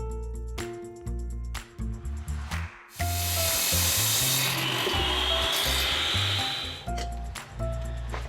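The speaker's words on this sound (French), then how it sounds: "coupez des clinkers à la bonne taille. Marquez les dimensions et utilisez à nouveau la scie à onglet." Miter saw cutting clinker paving stones for a permeable driveway: a loud, gritty grinding cut lasting several seconds, framed by backing music before and after.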